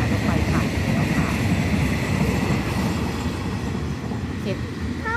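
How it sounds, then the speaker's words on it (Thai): A train runs past plowed rice fields in rural Thailand that are being readied for sowing jasmine rice, a steady rolling rumble with faint rail clatter as someone talks over it. "เนี่ยรถไฟผ่านแล้วค่ะ"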